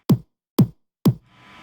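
Three punchy hits of a full, unfiltered kick drum sample, bright click on top of a deep body, land about half a second apart, loud and alone, followed by a faint hiss.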